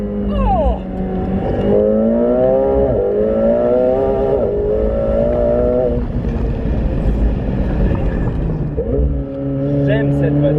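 A McLaren 720S Spider sports car roars loudly nearby, its engine revving up and down in rising, gear-shifting sweeps with brief pauses, while people talk excitedly underneath.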